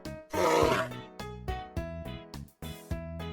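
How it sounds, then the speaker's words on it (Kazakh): Cartoon bear sound effect: a loud, rough growling roar near the start, followed by a string of short punchy musical hits. "Аю."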